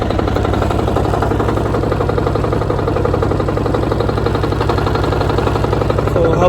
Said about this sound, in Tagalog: So habang hinahayaan natin na uminit yung makina niyan